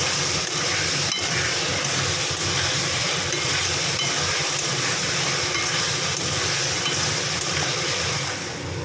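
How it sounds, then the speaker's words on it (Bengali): Potatoes are stir-fried with spices in hot oil in a pan for a duck egg curry, giving a steady, even sizzling hiss that continues unbroken without any talk. "এবার আলুগুলো এর মধ্যে দিয়ে একটু কষিয়ে নেবো আবার এই যে আলুগুলো দিয়ে দিলাম দিয়ে একটু কষিয়ে নেবো"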